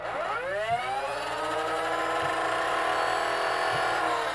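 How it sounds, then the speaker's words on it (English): Small electric motors in a Nerf Rayven blaster, fitted with replacement motors after a circuit cleanup mod, rev up with a rising whine that settles into a steady, loud high-pitched whir, heard alone and close. "I'm going to rev it up for you guys and compare it"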